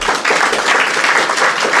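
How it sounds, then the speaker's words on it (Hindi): A crowd breaks into loud, dense applause, with many hands clapping at once in a continuous roar that holds steady throughout. "भाई इसके लिए तो ताली बनती है"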